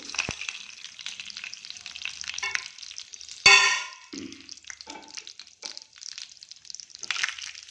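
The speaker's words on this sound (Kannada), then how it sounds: "ಇದೆಲ್ಲ ಸ್ವಲ್ಪ ಚಟಪಟ ಅಂತ ಸಿಡಿಲಿ." Mustard seeds, chana and urad dal, cumin, fenugreek, curry leaves and a dried red chilli spluttering in hot oil: close, scattered crackling pops and sizzle, with one sharp metallic clang of a utensil partway through.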